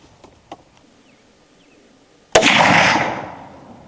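A .450 Bushmaster rifle firing a 225-grain FTX load goes off once with a sharp, loud outdoor crack and a rolling echo that tails away, after a few faint clicks and quiet handling noises.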